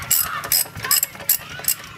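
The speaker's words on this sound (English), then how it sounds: "we got the four bolts, so Drew's going to take those out" A ratchet backs out four bolts on a DeLorean engine during a valve adjustment. Close, crisp clicking comes in short rhythmic strokes about twice a second.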